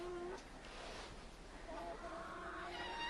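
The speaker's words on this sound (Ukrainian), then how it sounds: "тепличка, в якій курчатка сидять" Soft clucking and chirping of young chickens inside a small greenhouse, steady and fairly faint, with a low background hum and no talking.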